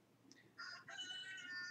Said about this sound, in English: We have a rooster for an alarm clock.